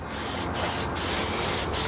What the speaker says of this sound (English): I'll let him do a couple test sprays